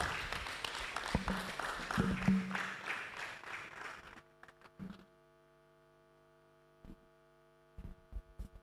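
An audience at a public lecture on hypertension gives a round of applause for a cardiology professor, a fairly faint, dense patter lasting about four seconds, then stopping into a steady electrical hum with a few scattered bumps.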